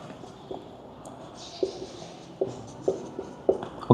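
Chalk or marker strokes scratch across a board during a class 7 algebra lesson, a quiet series of short, separate taps and scrapes in an irregular rhythm with no voice.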